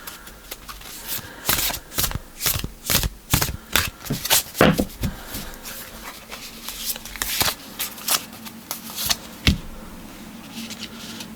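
Oracle cards being shuffled and drawn, a run of crisp riffling and slapping bursts in quick irregular succession, close up, thinning to a few single card sounds toward the end.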